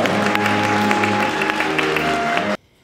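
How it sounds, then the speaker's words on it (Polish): Audience applause at a regional Myślenice event, a dense steady wash of clapping from a crowd that stops abruptly near the end, with a faint tonal hum underneath. "Poproszę jeszcze raz o wielkie brawa tutaj dla nas, dla tych najmłodszych zwłaszcza"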